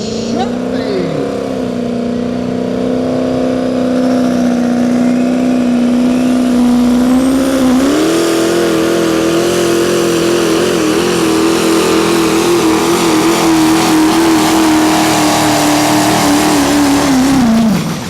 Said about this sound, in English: Listen to that motor, it's got a little bit different sound than the inline 6.